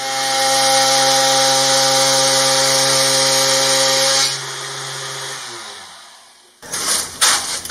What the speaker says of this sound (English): We need to route a very narrow piece of wood.